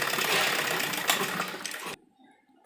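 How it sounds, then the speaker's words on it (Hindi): Close, steady whirring of a sewing machine stitching a lined embroidered suit, running for about two seconds and then stopping abruptly, leaving near silence. "और बीच में सिलाई कर देंगे।"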